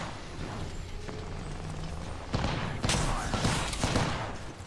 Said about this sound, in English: Other one was shooting me from down here.